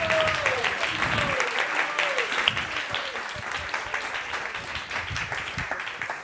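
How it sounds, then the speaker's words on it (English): An audience gives a full round of applause at a Krishna devotional talk, a dense sustained clapping with some voices and a brief tonal sound mixed in early. "So a huge round of applause for them."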